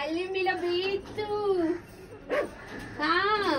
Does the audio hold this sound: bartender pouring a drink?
no